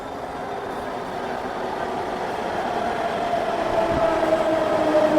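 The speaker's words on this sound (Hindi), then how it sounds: "हमारी मेट्रो आ गई है, ये देखिए, जो कि सिद्ध विहार की ओर जाएगी।" A Delhi Metro Pink Line train rumbles steadily into a station, its roar slowly growing louder with a faint high whine from the motors.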